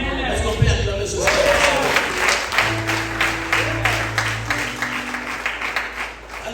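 A church congregation at a prophetic service applauds and cheers, a dense wash of clapping and shouts that starts loud and slowly fades, with a sustained tone humming underneath.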